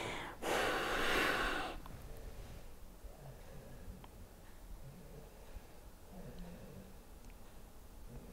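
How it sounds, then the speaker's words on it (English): A strong breath pushed out during a yoga belly vacuum exercise rushes loudly for over a second near the start, followed by quiet room tone with faint soft movements. "And exhale, hollow the belly."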